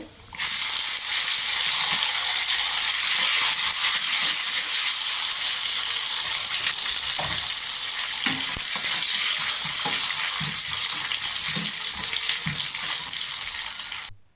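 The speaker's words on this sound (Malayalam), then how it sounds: "ഇനി നമുക്ക് ഒരു പാനിലേക്ക് 1 ടേബിൾ സ്പൂൺ നെയ്യ് ഒഴിച്ച് കൊടുത്തിട്ട് അല്പം അണ്ടിപ്പരിപ്പും കിസ്മിസും ഒന്ന് വറുത്ത് കോരിയെടുക്കാനുണ്ട്" Cashews and raisins fry in a tablespoon of ghee in a pan, giving a strong, even hissing sizzle throughout with occasional soft stirring scrapes.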